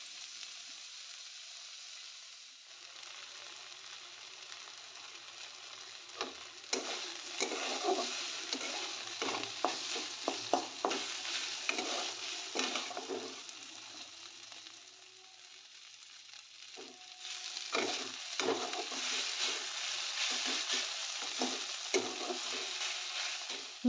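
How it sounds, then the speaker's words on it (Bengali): Chicken and tomato fry in a pan with a continuous crackling sizzle, joined in the middle and near the end by bursts of scraping and stirring, with a brief quieter lull between them. "এখন টমেটোটা দিয়ে ভালো করে ভেজে নেব সব কিছু।"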